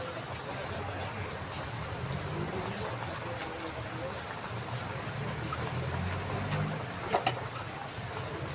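Heavy rain pours steadily, a dense broadband hiss and patter that stays constant throughout, with faint voices under it.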